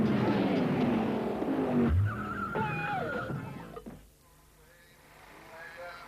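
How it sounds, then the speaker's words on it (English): Street-legal, taxed and MOT'd road cars racing at Bug Jam 4 in 1990: loud close engine roar with a tyre squeal and a sharp skid, then the noise fades to a quieter distant rumble. "Now it's back to racing with some more of the street legal weekend warriors"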